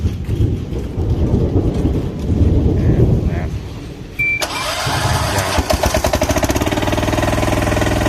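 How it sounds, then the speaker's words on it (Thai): A Kubota single-cylinder diesel engine on an old Japanese one-ton tracked dump carrier is cranked and catches partway through. It settles into a loud, rapid, close-up chugging idle after a rough, rumbling start. "เอาลองสตาร์ทเครื่องโชว์นะ"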